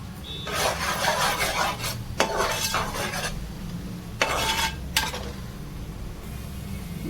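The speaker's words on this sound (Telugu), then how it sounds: "ఇప్పుడు కొద్దిసేపు ఆయిల్లో వేయించుకుంటే ఇలా ఆయిల్ పైన వచ్చే వరకు వేయించుకోవాలి" Fish curry masala fries in oil in a pan, a close hiss broken into bursts by scraping and stirring strokes of a spoon against the pan, with no talking.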